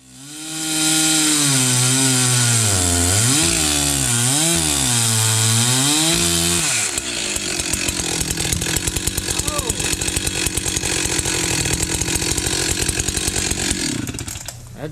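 Chainsaw with a 4-foot bar and dull chain cutting into a massive white ash: a loud engine revving and wavering for several seconds, then settling into a steady, gritty cutting drone as the chain bites into the wood.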